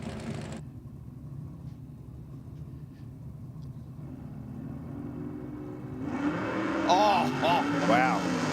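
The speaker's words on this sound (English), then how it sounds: "You could hear the revs drop." A drag racing car at Sydney Dragway idles and rumbles low, then its engine rises in revs and accelerates loudly in the later seconds, with a commentator's voice heard over it.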